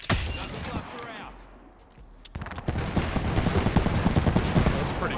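Gunfire in Apex Legends, with a loud opening shot followed by a quieter stretch, then rapid automatic bursts and repeated shots close at hand, with voices talking underneath.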